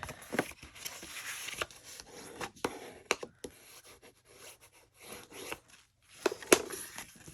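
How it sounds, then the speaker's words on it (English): A paper card's score line being burnished, irregular close rubbing and scraping strokes with brief sharp taps, quiet with short pauses between passes. "And then you'll burnish very well"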